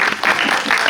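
Audience applause at a premiere cinema talk event, a dense burst of clapping that fills the whole short moment without pause.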